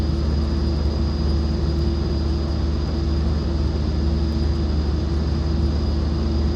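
A Pilatus PC-12 turboprop taxis in the X-Plane 11 flight simulator, its engine a steady, loud, unbroken drone with a constant tonal hum and no voices over it.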